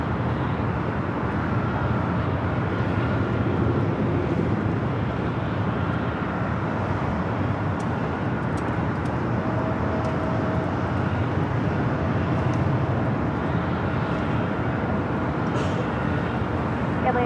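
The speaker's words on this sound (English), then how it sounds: "Right up next on the Japan Airways, the Dreamliner." A Japan Airlines Boeing 787 Dreamliner jet at Los Angeles LAX airport, a steady broadband engine roar held at constant loudness throughout, with faint wind and distant traffic rumble blended in.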